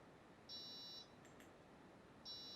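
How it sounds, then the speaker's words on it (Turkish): Small electronic buzzer on a Pinoo robot kit beeping twice, short steady tones about two seconds apart, faint against a noisy hiss. "Buzzer'ım da çalışıyor."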